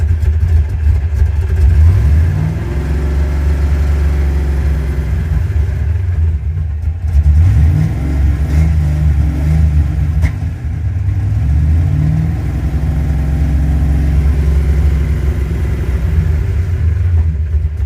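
A car engine rumbles deep and loud through a throaty two-chamber Flowmaster muffler, swelling with a couple of revs before settling back to a steady growl.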